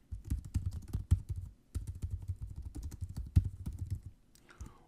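Typing on a MacBook keyboard, a quick close run of light key clicks in bursts with a brief pause partway through, ending with a softer trailing sound.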